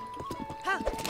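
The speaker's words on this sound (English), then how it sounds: "So you actually have to be, like, in audible range of the horse." Horse in Zelda: Breath of the Wild: rapid clip-clop of hooves with a short whinny, close and fairly loud, with people talking over it.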